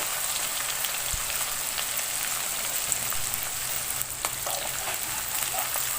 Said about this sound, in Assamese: পিঁয়াজখিনি লৰাই লৈ লাহেকৈ আদা নহৰুখিনি দিম